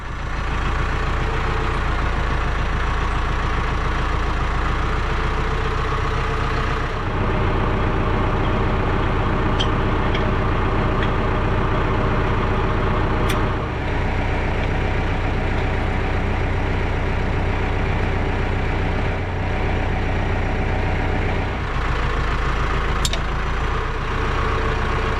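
Heavy tractor diesel engine idling nearby, a loud continuous low rumble with a steady throb, a brief dip partway through and a faint hiss near the end.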